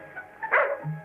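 A dog gives a single short bark with a small yip in an old 1950s western TV scene, heard close and alone for about a second.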